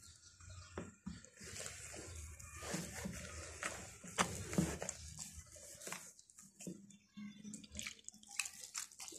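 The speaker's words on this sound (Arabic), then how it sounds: "ننزل بقى المية شوية بشوية" Water trickling gradually into flour while kneading dough for plain sweet qaraqeesh biscuits: soft, close pouring and wet patter, irregular and fairly quiet, with faint kneading and handling noises and no speech.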